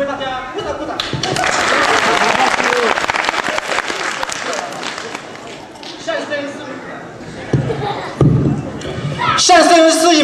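An audience at a Chinese Christian church Christmas celebration in Italy bursts into loud applause during a comic crosstalk act, thick clapping that swells and then thins before voices and stage sounds return.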